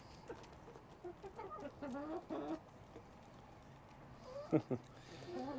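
Scattered hen clucks and short squawks over a low background, with a louder burst of calls near the end.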